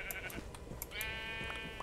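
Sheep bleat in Minecraft running the Better Than Wolves mod, a short wavering bleat over a busy bed of game ambience and clicks, close and moderately loud.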